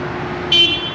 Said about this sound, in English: I don't know who's honking at who.